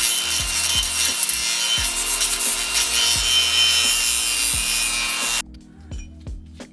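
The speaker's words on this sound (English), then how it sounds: "So now we're gonna go ahead and grind the surface area." A grinder running on the metal surface of a Lexus GX460 lower control arm, making a loud, continuous rasping whine with a low rhythmic rumble beneath it, then cutting off abruptly near the end.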